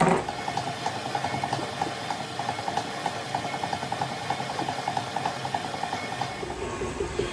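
A stand mixer creams a block of cream cheese in its bowl, giving a steady mechanical whir with a rapid rhythmic clicking and knocking that runs evenly for several seconds before stopping near the end.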